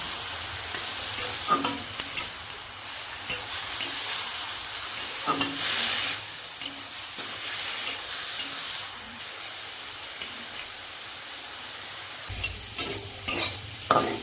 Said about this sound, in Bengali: লঙ্কা দিয়ে দেবো লবণ দেবো হলুদ দেবো আর ভালো করে নাড়িয়ে নেব